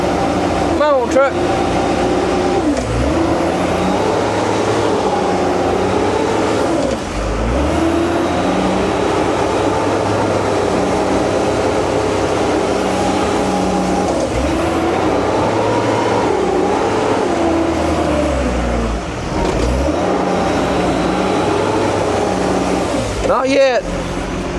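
A dump truck stuck in a swamp roars with a loud, sustained, straining engine that rises and dips in pitch as it is revved for the full stretch, with a voice talking over it.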